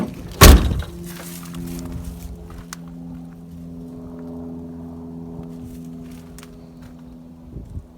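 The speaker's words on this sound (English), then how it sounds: "Close the door." A single heavy thunk of a door slamming shut, followed by a low lingering hum and faint rustling.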